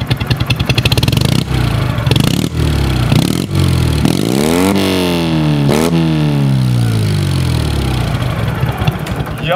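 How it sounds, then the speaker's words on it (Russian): A rebuilt Ural motorcycle engine chugs loudly and up close with a steady beat, revs up and down in several rising and falling sweeps, then drops back to a rhythmic idle. "как заработал, запел двигатель этого аппарата"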